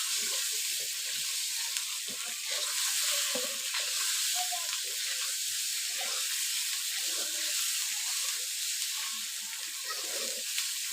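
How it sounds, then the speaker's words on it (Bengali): Eggs frying in oil in a kadai, a steady close sizzle and hiss that holds throughout, with occasional soft stirring scrapes. "ডিম লাল লাল করে ভাজা নিতে হয়"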